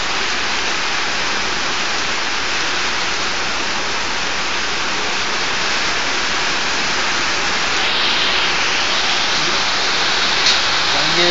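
Icy rain falling in Abha, Saudi Arabia, a loud dense unbroken hiss of precipitation hitting surfaces, steady throughout with no break.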